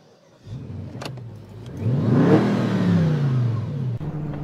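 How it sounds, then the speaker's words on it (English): A Bentley Continental GTC with a 4-litre twin-turbo V8 petrol engine starts up and accelerates hard, its revs climbing into a rising roar before easing off, heard close and alone. "It's got a 4-litre V8 twin-turbo petrol engine, which packs a 521 brake horsepower"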